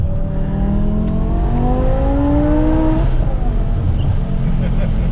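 Supercharged 650 hp V10 BMW M5 pulling hard under acceleration, a loud continuous engine note with rising harmonics over heavy wind rush, with people talking and reacting inside the car.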